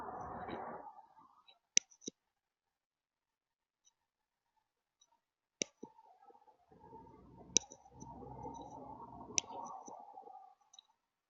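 A computer mouse clicks through a software setup, a few isolated sharp clicks spaced seconds apart, alongside bursts of soft background noise in a quiet room.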